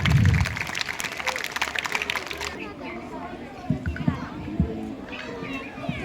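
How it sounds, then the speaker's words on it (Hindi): An audience claps loudly for about two and a half seconds at a school Republic Day celebration in India, then the applause fades into voices and crowd chatter. "जोरदार तालियां"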